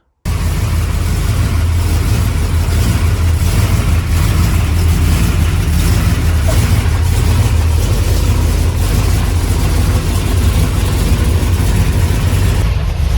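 Old street stock race car engine idling as it warms up, a loud steady low rumble with a slightly uneven throb, running alone and close by after starting.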